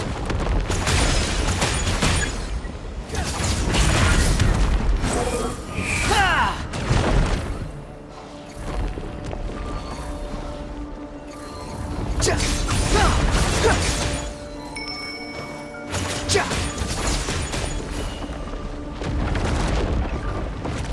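A breakable wall smashed apart in an Egyptian-tomb adventure game near a mausoleum entrance, heavy booming crashes and crumbling debris, loud and close, swelling in several waves over a rumbling backdrop.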